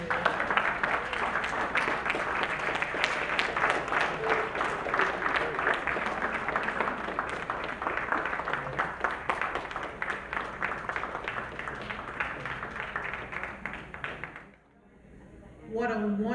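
Guests at a St. Kitts and Nevis independence dinner and ball clap in a sustained round of applause with scattered distinct claps, then it drops away briefly near the end before noise returns.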